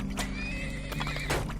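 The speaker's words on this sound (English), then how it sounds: "We'll get ourselves 2 horses" A horse in the video game Turmoil whinnies loudly and alone, its neigh warbling across the short clip, with a few brief hoof clip-clops mixed in.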